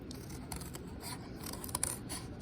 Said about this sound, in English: I'm gonna start kind of cutting out all these pieces